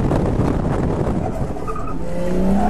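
A Mazda RX8 drifts with its wheels spinning, the engine roaring loud and close under sustained tire squeal that rises into a long screeching whine.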